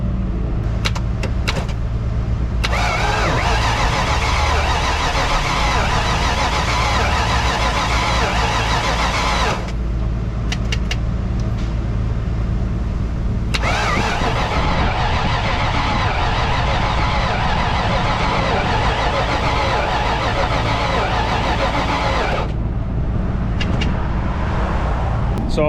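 A 1983 Mercury Capri RS engine, left sitting for nine years, cranks over on its starter in loud, sustained runs separated by brief pauses, with no voices.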